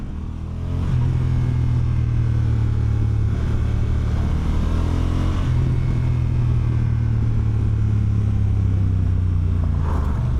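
A 2025 Honda NT1100 motorcycle engine on a test ride, a loud steady drone that rises and falls in pitch as the rider works through the revs, with wind noise and no talking.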